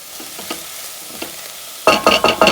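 A spoon stirs frozen spinach in a pot for a noodle soup, starting with a few faint scrapes and ending in a louder burst of rhythmic stirring with a wet sizzle.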